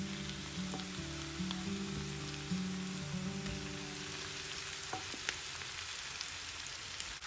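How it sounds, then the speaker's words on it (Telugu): Chicken pieces frying with browned onions in a pan for a chicken fry: a constant dense sizzle, with a low steady tonal hum early on and a few sharp crackles and scrapes later. "ఇప్పుడు ఈ చికెన్ని 5-6 నిమిషాలు వేగనివ్వండి."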